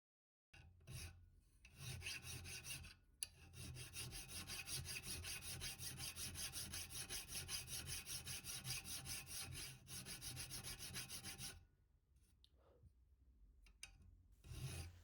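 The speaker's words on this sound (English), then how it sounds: "I just filed it down by half millimeter per side" A hand file rasps back and forth across a small metal piece being shaped for a CNC router z probe, in fast, regular strokes that run continuously for about ten seconds, then a few scattered scrapes after a pause; close but fairly quiet.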